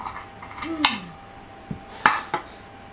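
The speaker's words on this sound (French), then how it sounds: "je vais le couper avec un couteau" A knife cuts into a crustless asparagus quiche in its baking dish, giving a few separate clinks and scrapes of metal against the dish, fairly close and alone.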